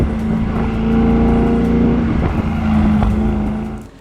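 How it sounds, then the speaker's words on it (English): Deep, steady V8 exhaust rumble from a Mercedes-AMG SL 55 Roadster with a sustained throbbing drone, loud and close, swelling slightly before easing off at the end. "I can listen to this exhaust note day in and day out."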